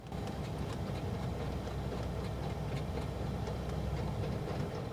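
The tonneau cover of a 2024 Tesla Cybertruck Cyberbeast slides open with a continuous low mechanical rumble and rhythmic clicking like a train on tracks, steady and fairly quiet throughout.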